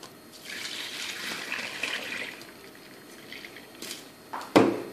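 Liquid is poured while Thai traditional coffee is made, giving a steady soft splashing trickle that ends in a louder splash and clink near the close, heard up close with no talking.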